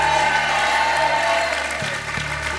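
A studio audience at a French broadcast applauds loudly, continuous clapping from a crowd over a low background hum, fading slightly toward the end.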